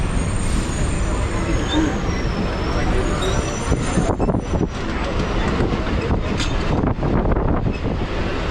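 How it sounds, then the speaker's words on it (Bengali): A local commuter train on a suburban line rolls in along the rails with a continuous broadband rumble and clatter, steady and fairly loud throughout, mixed with wind buffeting the microphone. "ট্রেন এখন আমাদের চলে এসেছে"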